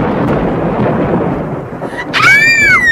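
Thunderstorm sound effect in an abridged Enid Blyton Famous Five audiobook: a low rumbling, hissing wash of rain and thunder, followed near the end by a sharp, high wailing cry breaking over the storm.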